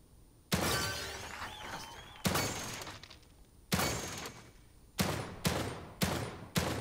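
Heavy gunshots from The Evil Within 2 video game ring out in about seven separate blasts, sharp and loud with short decaying tails, spaced irregularly and closing into a faster cluster near the end, with no talk.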